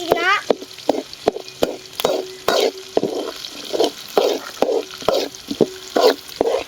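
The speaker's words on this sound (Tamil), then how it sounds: "வெங்காயம் போட்டுக்கலாம். நல்லா வதக்கலாம்." Onions sautéing in a pan for a dried anchovy (nethili karuvadu) dish, heard as repeated sharp spatula scrapes and clacks against the pan over a soft sizzle, with short bursts of background voice between strokes.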